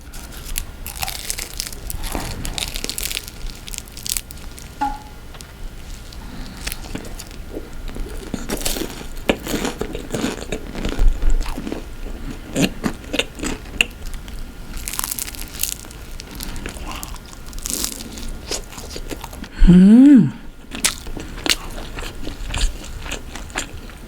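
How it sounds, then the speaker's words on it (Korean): Crunchy garlic olive bread from a bakery, crisp at the edges, is bitten and chewed in repeated close crackling crunches, with one sharper loud snap near the end and no talk. "요 완전 가장자리 부분은 바삭바삭한데 안은 그렇게 바삭바삭하지 않아요"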